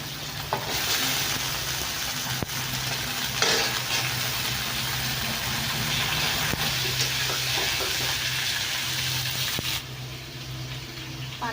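Ground spice paste of chilli, ginger, salt and turmeric sizzling with vegetable stalks in a pan for hilsa curry, a loud steady frying hiss with occasional stirring scrapes.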